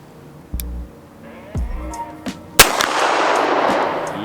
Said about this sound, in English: I'm going to actually try to shoot this thing in double action to see if I can land shots